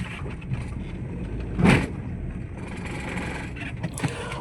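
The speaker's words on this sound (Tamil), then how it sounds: "இப்போ ஃபைனலாக வண்டியை ஓட்டி பார்க்குறேன். அதே ஸ்பீட் பிரேக்கில் தான் ஏற்றுறேன்." A Maruti Swift with front suspension trouble drives over a speed breaker, a steady low engine and road hum broken by one brief thump as the wheels hit the bump, with lighter knocks afterward.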